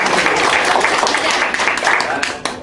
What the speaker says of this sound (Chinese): 来，掌声鼓励